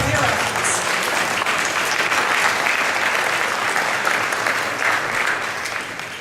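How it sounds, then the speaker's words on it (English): Sustained applause from a seated audience at a regional planning agency's annual meeting, honouring staff members, a dense even wash of many hands clapping that holds steady and tapers slightly at the end. "Please join me in applauding their efforts."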